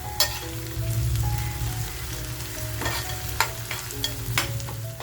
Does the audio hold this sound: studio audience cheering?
no